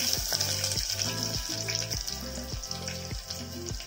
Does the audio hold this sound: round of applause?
no